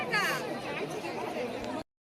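Crowd chatter in a darshan queue at the Ekvira temple, a dense babble of many overlapping voices close by, steady for under two seconds before cutting off abruptly.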